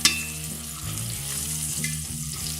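Rainbow trout sizzles steadily in a hot cast iron pan, with a brief scrape and clatter as the fillet is flipped partway through; broadband frying hiss stays constant and close throughout.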